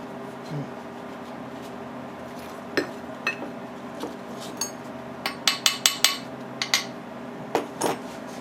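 Metal tapping on a seized Briggs & Stratton lever engine during restoration: scattered sharp clinks, then a quicker cluster of ringing taps near the end, fairly quiet, with no talking.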